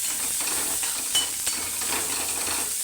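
Chopped onion with crushed garlic fries in a pan for a dry potato bhaji, a steady hiss and sizzle with a couple of light taps of a utensil, close and even.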